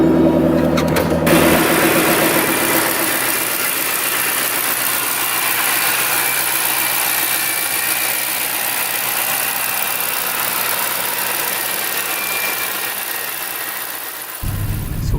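The engine of a Shelby GT500 runs at a steady idle, a loud, constant mechanical hum with a brief louder start and a faint shift near the end.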